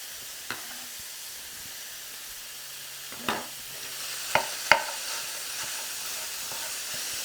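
Lean ground hamburger meat frying in a pan, a soft continuous sizzle broken by a few sharp clinks and scrapes of a utensil against the pan, no talk.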